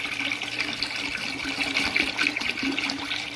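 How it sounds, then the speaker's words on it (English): Sticky molasses poured carefully into a container for rice whiskey and rum, giving a steady, continuous liquid pouring and trickling sound, fairly close and even throughout, with no talking. "I'm going to pour it in such a way that I don't splatter sticky molasses everywhere."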